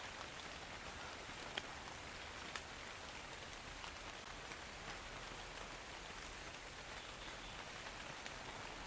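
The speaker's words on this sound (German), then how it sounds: "Es regnet nämlich rein, da kein Dach drauf ist." Rain falling into an unroofed house in the video game ARK: Survival Evolved, a faint, steady hiss of drops with a couple of sharper splashes, no voices.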